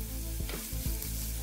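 Chopped vegetables seasoned with salt and pepper stewing and sizzling in a pan over medium-low heat, a steady close frying hiss with a few soft scraping stirs.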